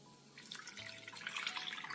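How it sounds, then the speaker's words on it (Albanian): Water is poured into a cooking pot for braising beef, a faint, close splashing trickle that begins after a brief quiet moment and continues steadily. "Tani vazhdojmë që në tenxhere ta shtojmë ujin."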